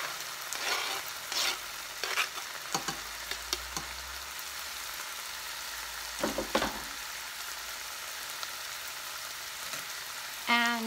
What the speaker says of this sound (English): I'm just adding my onions.